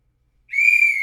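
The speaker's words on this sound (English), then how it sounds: "Can I get one more whistle?" One sharp, high whistle starts abruptly after a moment of silence and is held steadily for about half a second, loud and near, with no talking.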